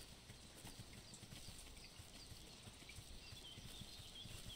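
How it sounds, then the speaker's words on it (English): Running cow hooves in the video game Force of Nature, a rapid continuous clip-clop of hoofbeats, faint and steady with no pause. "Boy, this cow is running pretty quickly"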